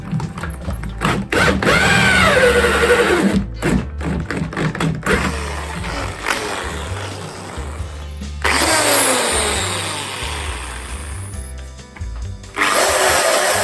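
A power drill boring through wood while making a garden bird feeder, loud whining and grinding bursts that start and stop, with pitch sweeps as the bit spins up and slows, no speech.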